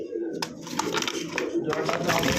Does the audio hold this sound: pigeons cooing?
yes